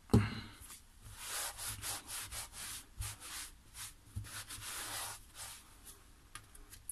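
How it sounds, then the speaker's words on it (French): A cloth or tissue rubs back and forth across a craft work surface after ink spattering, making close, steady scrubbing strokes of rough friction in a quiet room. "j'oublie pas bien sûr de nettoyer mon plan de travail"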